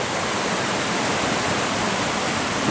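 A stream runs beside a forest bivouac, its steady, dense rush of flowing water loud and close with no breaks.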